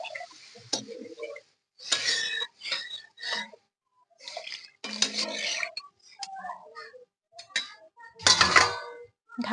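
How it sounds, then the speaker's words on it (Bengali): Water is poured into a pan of fish curry on a home stove, with metal pot and utensil clinks and taps arriving in short, scattered bursts between quiet gaps. "এবার আমি পরিমাণ মতো জল দিয়ে দিচ্ছি।"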